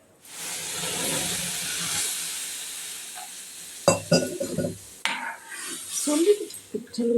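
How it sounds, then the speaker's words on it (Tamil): A steady hiss of water coming to the boil in a pot for lentil payasam fills the first few seconds, followed by clattering and sharp knocks close by. "பாருமா தண்ணி கொதிக்குது"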